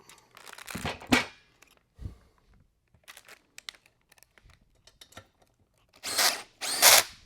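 A power drill tightens bolts during an Apex two-leg installation, with short whirring bursts near the start and two louder ones at the end, separated by clanks, rustling and quiet gaps.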